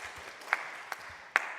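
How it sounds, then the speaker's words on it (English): Faint, sparse clapping from an audience at a photography awards ceremony, with a few sharper single claps standing out over a low, steady room murmur. "You can clap for that."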